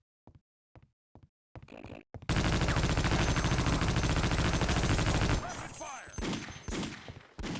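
Gunfire from soldiers laying down cover fire in Half-Life: Opposing Force, first a few isolated shots, then a long, loud continuous automatic burst, followed by scattered shots with voices mixed in.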